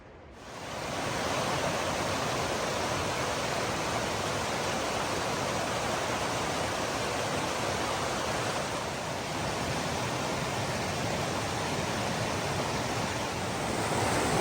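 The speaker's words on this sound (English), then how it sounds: "We're over here at the rapids falls. This is all glacier water coming down from the mountain" Glacier meltwater rushes down from the mountain in rapids and falls near Lake Louise, a steady, loud, close roar of broadband water noise that holds unbroken throughout, with no voices.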